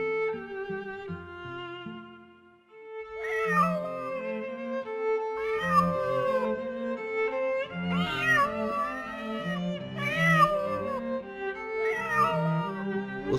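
A cat meows repeatedly in a series of clear, drawn-out calls with rising and falling pitch, fairly close and alone without talk.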